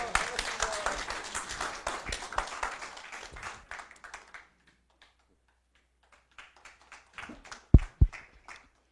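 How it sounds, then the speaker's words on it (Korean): Audience applause welcoming a former unification minister as guest speaker at a Korean lecture on diplomacy, steady crowd clapping for about four seconds, then fading out, followed by a few scattered sharp knocks and taps. "정세현 장관님을 큰 박수로 모시겠습니다"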